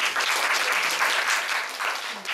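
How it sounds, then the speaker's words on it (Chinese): Audience applause at a talk and Q&A session, a dense, even wash of clapping from the crowd lasting a couple of seconds, fading slightly toward the end. "先给他一点掌声"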